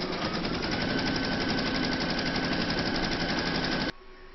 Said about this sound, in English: you're going to stitch round number 1, and that's going to give you your batting and fabric placement outline